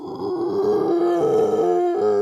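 A person voices a drawn-out, groaning moan imitating a group of zombies in a tabletop role-playing game, a sustained low wavering cry lasting a couple of seconds, close and loud with no other sound.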